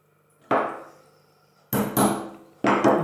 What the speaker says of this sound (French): Un petit coup de marteau, on le sent, hein, ça s'enfonce assez facilement.